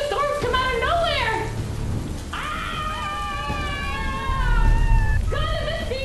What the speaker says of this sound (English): Looks like a storm's come out of nowhere.